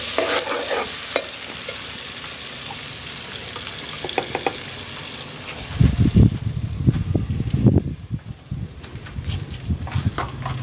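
Ginger, garlic and green chillies sizzle in a hot pan while being stirred, scraping and clattering louder in the second half over a constant frying hiss.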